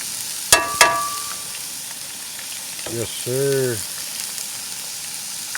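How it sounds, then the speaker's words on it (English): Tater tots fry in a steady sizzle that fills the background while a few short spoken words come in briefly over it. "Got some tater tots frying up."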